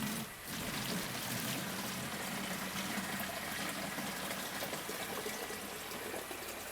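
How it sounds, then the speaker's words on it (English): Homemade comfrey tea plant food, with lumpy bits, pours steadily into a watering can in a continuous close splashing rush that runs unbroken from start to finish. "So I'm going to pour that into my watering can."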